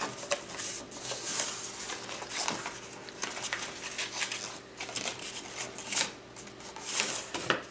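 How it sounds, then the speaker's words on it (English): Origami paper is creased and folded into a paper tank, close crinkles and papery rustles in irregular bursts, with sharper crackles every second or so. "and you fold them in"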